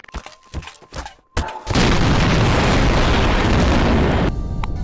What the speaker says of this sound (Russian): Ой, если на бомбу поставить кнопку, давайте проверим, взорвется или нет.